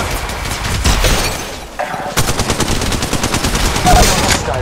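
Sustained bursts of video game gunfire during a squad shooter battle, loud and continuous with rapid rhythmic shots, briefly dipping before resuming heavier.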